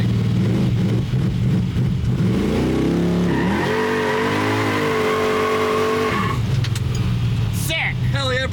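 Small-block Chevy drag car with an 8HP70 transmission launching off the trans brake, engine holding a loud rumble, then revving up with a rising pitch before a brief tire squeal near the end, with voices throughout.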